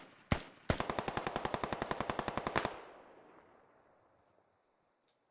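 Sustained automatic gunfire in a video game military operation, Russian forces firing: one sharp shot, then a rapid burst of about twenty evenly spaced rounds lasting two seconds, loud and close, followed by a fading reverberant tail and a final crack.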